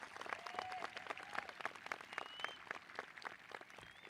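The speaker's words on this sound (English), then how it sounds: "Let's give all of these students one more round of applause for their dedication," Graduation audience at a high school ceremony applauding the students, distinct claps and scattered hand strikes heard at a distance, uneven and fairly quiet, with faint whistles and cheers threaded through.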